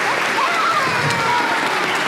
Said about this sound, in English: how about a big, warm round of applause from everybody here?